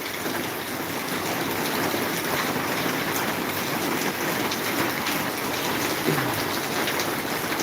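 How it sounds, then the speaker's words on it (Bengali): Rain falls outdoors in Maharajpur in a steady, dense hiss of drops that spreads evenly throughout with no voices. "বৃষ্টিটা প্রায় কমতে লেগেছে"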